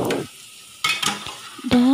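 A spoon stirs Indian-style spinach curry in a pan, with scraping strokes against the metal over a quiet simmering sizzle, close and fairly loud.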